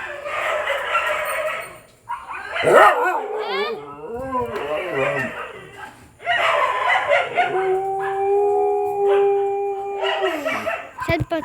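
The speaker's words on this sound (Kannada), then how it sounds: "ಈಗ ಆ ನಾಯಿಗಳು ಕಾತ ನಾಯಿಗಳು ಕೂಗುತ್ತಿದ್ದಾವೆ" Several dogs howl and bark together outdoors, their long wavering howls rising and falling in overlapping bursts, fairly close and loud, with a person talking in between.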